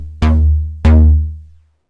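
Synth patch run through TAL Chorus-LX on chorus type 2 with full stereo width, heard as two struck notes, each with a bright attack and a long, thick, decaying tail, close and alone.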